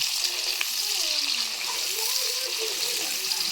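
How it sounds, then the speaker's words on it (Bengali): Onions sizzle in hot oil in a pan as they are gently stirred, a soft continuous frying hiss with faint scraping and a few brief tones, fairly quiet and with no speech. "পেঁয়াজগুলো ভালো করে ভাজার জন্য তোমাদের তেলটার প্রয়োজন।"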